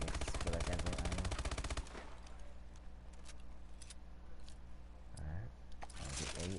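A rapid-firing gun in a video game, a loud fast continuous burst for about two seconds, then a lower mechanical rumble with a brief second burst near the end.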